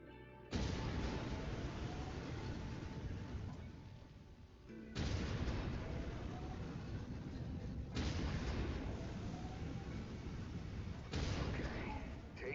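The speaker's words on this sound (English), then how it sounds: "I've mapped the autocannon to Weapon Group 1. You're free to fire whenever you're ready." Heavy booming autocannon fire from a mech in the MechWarrior 5 video game sounds in four long, thunderous bursts, each roughly three to four seconds, with rumbling sustain between shots.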